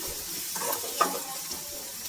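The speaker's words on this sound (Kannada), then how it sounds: "ನೋಡಿ, ಫ್ರೈ ಆಗ್ತಾಯಿದೆ." Capsicum palya frying in a pan, an even close sizzle with a couple of brief stirring scrapes, short and steady.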